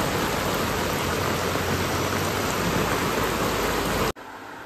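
Heavy storm rain pours down in a dense, steady roar that fills the air without a break, close and loud, before cutting off abruptly near the end.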